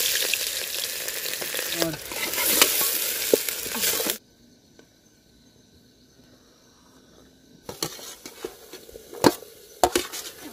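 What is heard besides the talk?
stirring dal in a cooking pot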